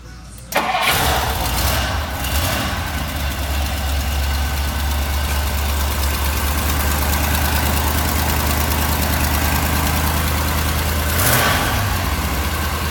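A 1962 Ford Thunderbird engine cranks briefly and catches, then settles into a steady, loud, close idle with a deep rumble that continues throughout.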